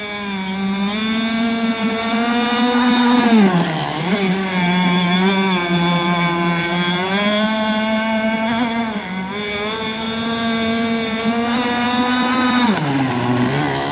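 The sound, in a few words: RC gas boat Zenoah 26cc two-stroke engine at half throttle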